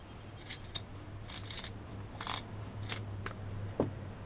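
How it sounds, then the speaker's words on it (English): Scissors snip around a homemade dish washing sponge, a series of close, crisp cutting crunches in an uneven rhythm with short pauses between strokes. "I'm going to cut it all around and make it look really nice."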